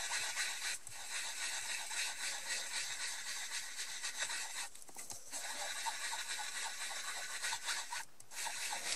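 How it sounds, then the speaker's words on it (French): A sponge rubs in circles over foil on a double-sided A4 sheet, making a soft, continuous scratchy rustle. The rubbing stops briefly about three times. "je vais prendre l'éponge et je vais venir frotter de manière circulaire"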